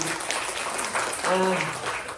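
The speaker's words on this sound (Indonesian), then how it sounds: "Boleh kita berikan tepuk tangan yang terbaik buat Tuhan." Church congregation applauding during a Sunday service, a broad wash of clapping from many hands filling the room, with a voice briefly rising over it.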